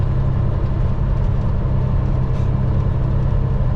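A truck engine fitted with a small new exhaust muffler in place of straight pipes idles with a steady, loud low rumble that stays even and continuous throughout, with no talk over it.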